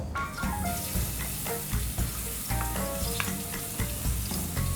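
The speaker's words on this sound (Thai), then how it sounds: "เริ่มต้นด้วยใส่น้ำมันแล้วก็ผัดเครื่องพริกแกงที่เราตามไปแล้ว" Thai curry paste stir-fries in hot oil for a spicy seafood stir-fry, with a loud, steady close sizzle and repeated clattering strokes of the spatula, and no speech.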